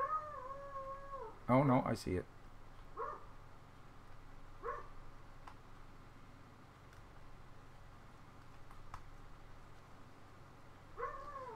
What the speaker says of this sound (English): Sorry about the paranoid dog next door, folks. He barks at everything.